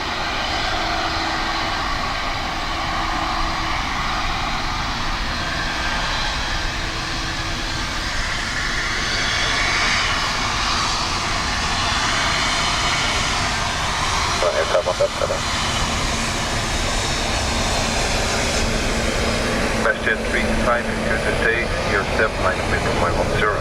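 A plane roars at Dublin Airport on a windy, wet day, a loud continuous engine drone lasting throughout, with wind and rain noise and occasional talk underneath.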